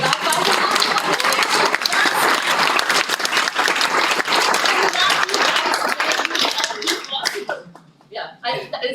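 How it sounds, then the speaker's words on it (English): Crowd applause at a startup accelerator demo day, dense and loud steady clapping for several seconds that thins into scattered claps and voices near the end. "There's an applause moment for that"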